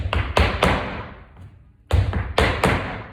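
Sharp flamenco footwork stamps strike a hard floor in quick groups of two and three, close and percussive, with a short pause between the groups; flat-foot stamps, the second louder and harder than the first.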